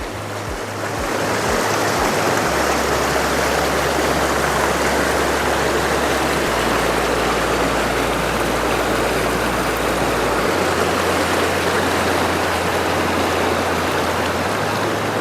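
Steady rushing water of a creek flowing below a log bridge in the Smoky Mountains, a continuous broadband wash with no voices, holding even throughout.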